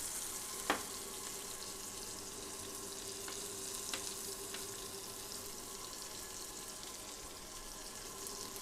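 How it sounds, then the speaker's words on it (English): Pork escalopes fry in a pan until golden brown, a faint, steady sizzle with a couple of small clicks and taps in a quiet kitchen. "Terribly boring watching someone fry, isn't it?"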